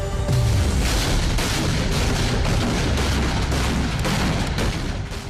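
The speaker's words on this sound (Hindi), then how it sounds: "सैन्य ठिकाने पर किसी भी हवाई हमले का मुंहतोड़ जवाब देने के लिए S-300 एयर डिफेंस सिस्टम की टेस्ट फायरिंग की गई" An S-300 air defense system is test-fired during a Belarus-Russia military exercise. A loud, sustained roar with rumbling blasts fills the whole stretch, with no pause.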